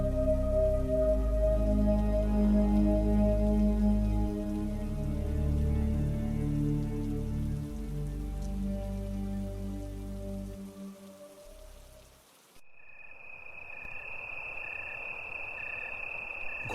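Rain falls steadily at night as a cartoon sound effect, a constant close wash of drops with low rumbling underneath that cuts off near the end, leaving a thinner hiss and a faint high tone.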